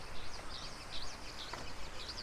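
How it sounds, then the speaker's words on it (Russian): Birds chirp and sing faintly in short high repeated phrases outdoors at a Bulgarian seaside resort complex, with steady wind noise underneath and no talking. "Просто птицы поют, тишина."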